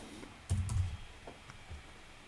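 A few quick keystrokes on a computer keyboard enter a number into a spreadsheet cell, a short cluster of soft clicks followed by a couple of faint taps in a quiet room.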